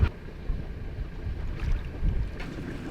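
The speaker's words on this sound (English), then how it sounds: "Making the turn, and the wind is coming in to the sails." Wind rushes steadily across a sailboat's sails as it comes about on a solo Pacific crossing, a broad low roar with gusty swells near the start and middle, accompanied by faint water and rigging sounds.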